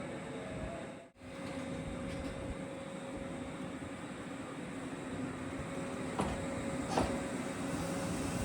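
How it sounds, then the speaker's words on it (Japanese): A two-car Tobu Daishi Line train rumbles steadily close by, its wheels and motor droning as it pulls away, with a few faint clacks along the rails. "列車が発車していきましたが大丈夫です。"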